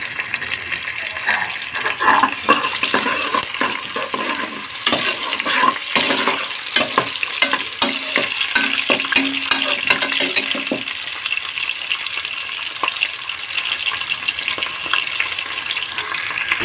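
Onion pieces fry in a pressure cooker for mutton biryani, a loud, steady sizzle with repeated scraping and stirring strokes against the metal, close up, easing into a calmer hiss toward the end.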